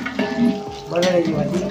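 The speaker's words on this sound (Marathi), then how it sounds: "इथं बटाटे आहेत इथं बटाट्याची भाजी बनणार" Potato curry cooks in a pot for a household puja meal, with a sizzling fry and bursts of stirring and clattering against the pot.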